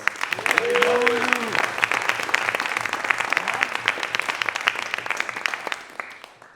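Applause from an audience at a senior music recital, a dense steady patter of many hands that swells early and holds before tapering off at the end, with a voice rising briefly over it.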